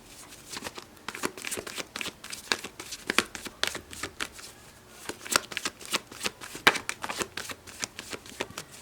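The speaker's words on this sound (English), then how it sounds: "so let's just shuffle a little bit." Tarot cards shuffled by hand at close range, a steady run of crisp riffling and flicking bursts with slight crinkling, quiet and continuous for several seconds with no talking.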